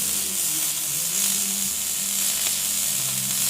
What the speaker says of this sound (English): let's tack weld this on